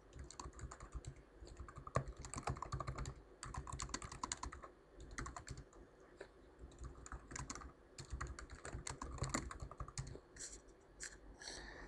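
Fingers tap out commands on a computer keyboard in SQL Plus on Oracle, a close run of quick clicky keystrokes in bursts with short pauses between, alone and unaccompanied by talk.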